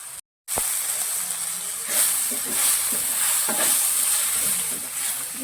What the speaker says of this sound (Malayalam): ഇനി മസാല ഒന്ന് നന്നായിട്ടൊന്ന് മൂക്കട്ടെ